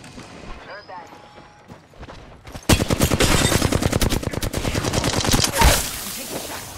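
Rapid automatic gunfire in Apex Legends, set in Kings Canyon: quiet movement first, then a loud, sustained burst of evenly spaced shots lasting several seconds, with a heavier blast near the end.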